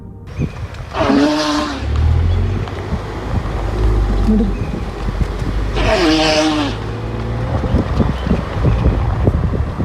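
A car engine revs hard in reverse as it escapes a charging elephant on a wildlife encounter, a steady loud rumble under wind buffeting on the microphone, with two sharp harmonic blasts rising over it near the start and middle.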